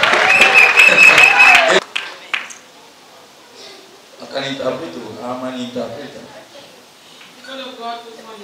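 Church congregation acclaiming with a loud burst of clapping and cheering that cuts off after a couple of seconds, followed by a voice speaking and singing.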